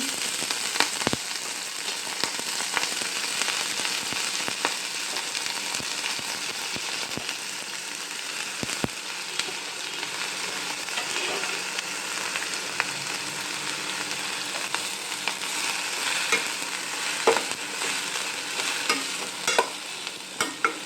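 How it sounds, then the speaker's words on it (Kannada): Purslane greens with urad dal fry in hot oil, making a long, dense, even sizzle close by, dotted with occasional sharp crackles and stirring taps throughout. "ಉದ್ದಿನಬೇಳೆ ಕೆಂಪಾದ ತಕ್ಷಣ ಸೊಪ್ಪು ಹಾಕಬೇಕು. ಈಗ ನಾನು ಇದಕ್ಕೆ ಸೊಪ್ಪು ಹಾಕ್ತಾ ಇದ್ದೀನಿ."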